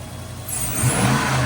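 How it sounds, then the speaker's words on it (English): A Volvo Penta marine engine with a noisy water-cooled fuel pump revs up, its low rumble rising steadily and holding loud and close, with no voices. "Go ahead and rev it up."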